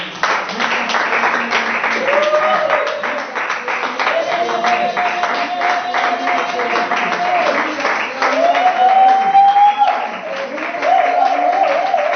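A church congregation at a retreat claps steadily and continuously while worship singing and voices carry on over the applause.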